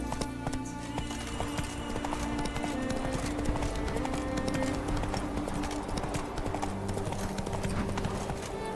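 Roach, a horse in The Witcher 3, gallops in a fast, dense rhythm of hoofbeats that sound close and loud, with a brief whinny, layered over steady game music and ambience.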